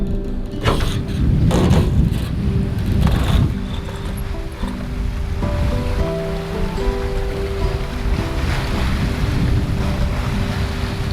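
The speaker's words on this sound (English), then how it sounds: "It's not a lot of wind today, but it's enough for sailing and try out everything." A sailboat out on the water in light wind, with a steady wash of water and wind noise and some knocking and rustling early on, continuous and fairly loud with no talking.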